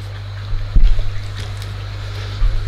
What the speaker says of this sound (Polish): Odpalimy sobie filtrację.